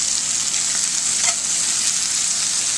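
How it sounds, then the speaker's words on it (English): Vegetables such as arugula, Korean cabbage and mushrooms fry in ghee in a pan, making a constant hissing sizzle with a faint stir near the middle and no voices. "All right, so cooking up the vegetables now."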